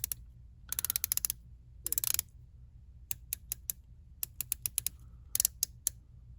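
Watch bezel being rotated by hand, producing bursts of quick, crisp clicks in short clusters with brief pauses between turns, close and fairly quiet.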